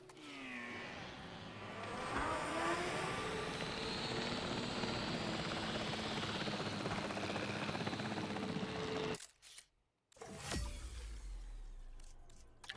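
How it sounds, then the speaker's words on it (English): Helicopter from the video game Jurassic World Evolution 3, a loud steady rotor and engine drone lasting about nine seconds before cutting off abruptly, followed by a brief quieter ambient stretch. "Let's jump in the chopper."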